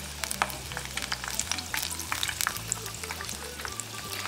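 Egg rolls fry in hot oil over medium heat, giving a close, steady sizzle scattered with sharp crackles and pops, and no talking.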